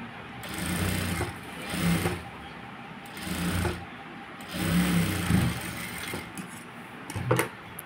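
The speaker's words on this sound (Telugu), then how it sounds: "ఇలా ఒక కుట్టు వేసేసుకుందాం" Sewing machine stitching fabric in bursts of rapid mechanical whirring, several short runs separated by pauses, moderately close and fairly quiet with no talking.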